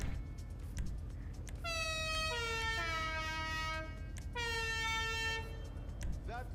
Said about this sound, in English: So, you can add the air horns to any vehicle.